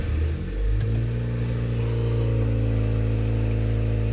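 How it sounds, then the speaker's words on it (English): A Honda Accord's engine starts and settles into a steady, loud idle hum close by, with a brief rising catch of the starter at the beginning. "Let's start the car real quick."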